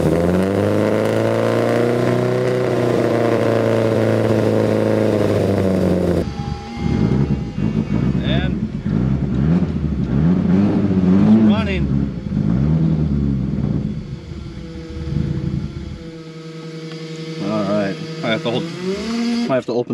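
Engine cranking, catching and revving after an ignition timing adjustment: a steady rumbling idle first, then rising and falling throttle revs that fill most of the clip, loud and close.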